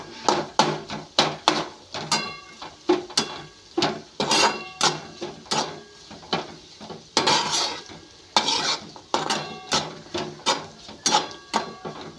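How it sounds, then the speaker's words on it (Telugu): Chilli powder being stirred into egg fried rice in a pan, a spoon scraping and clinking in a steady run of rhythmic strokes alongside a light sizzle, close and clear with no voices. "ఇలా కారం వేసుకొని బాగా కలిదిప్పుకోవాలి ఫ్రెండ్స్."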